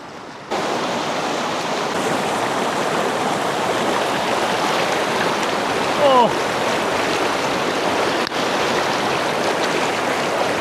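A strong river current rushes steadily and loudly throughout, a dense unbroken roar of water that starts after a short quiet moment, with a brief voice briefly heard over it.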